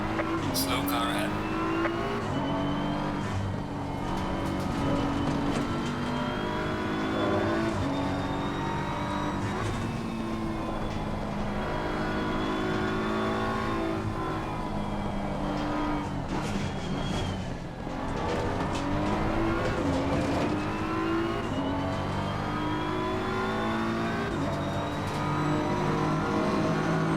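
A GT race car in Assetto Corsa Competizione drives alone at Snetterton, its engine droning loudly and steadily as it climbs and drops through repeated upshifts and downshifts, with someone talking over the sound.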